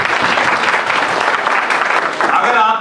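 A crowd of village service-centre workers at a government scheme gathering in India claps loudly and steadily for nearly three seconds, a dense continuous roar of hands.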